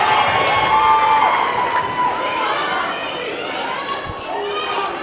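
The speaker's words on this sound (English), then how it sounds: "the Northwestern student section is loud and proud tonight. They are cheering on their team." Northwestern student section cheering at a basketball game, a dense roar of many voices with shrill whistling and shouts, steady and loud throughout and fading a little toward the end.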